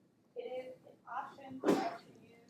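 A single sneeze bursts out in a pharmacology lecture hall, loud and sharp against the lecturer's ongoing speech, which is heard before and around it.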